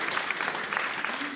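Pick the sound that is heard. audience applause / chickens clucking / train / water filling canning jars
audience applause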